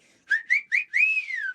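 A woman whistles a short tune, close and clear: three quick rising notes followed by a longer held note that slides gently downward, with no talking.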